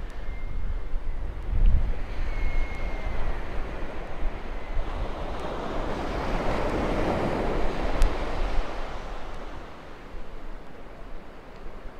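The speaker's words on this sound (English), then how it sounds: "What better way to end than at the beach with the waves crashing behind me?" Waves crash steadily on a Cornish beach along the coastal path between Menabilly and Readymoney Cove, a broad continuous surf wash with wind noise that swells in the middle and eases toward the end, with no voices.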